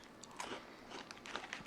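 Crunchy seasoned protein chips bitten and chewed close to the mouth, a short run of soft crisp crunches in a quiet room with no talking.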